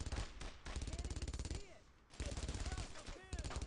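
Rapid bursts of machine gun fire from a video game firefight, the player advancing toward a building with an MG; loud, close staccato volleys with short pauses between bursts and no talk.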